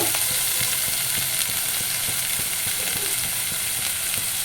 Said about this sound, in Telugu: ఉల్లిపాయలు వేసాలి. అంటే ఉల్లిపాయలు పెద్దగా వేగక్కర్లేదు, మోయినంగా అయితే బాగుంటుంది.